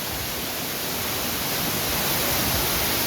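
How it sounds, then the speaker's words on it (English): Water splashes and roars steadily at the foot of a waterfall in a bird park, a dense, even wash of sound that holds constant throughout with no speech. "Ah, the water splashing in."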